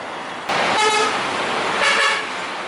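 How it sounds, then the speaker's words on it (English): Car horns honk on a busy street in Barretto, Subic Bay, Philippines, with two distinct, moderately loud toots about a second apart over steady road traffic noise, and nobody speaking. "don't you love the honking horns here?"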